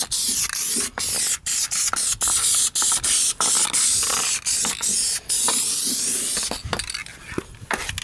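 Spray undercoating hisses from a spray can onto a car's underside in repeated loud close bursts, separated by brief gaps, tapering into shorter spurts near the end.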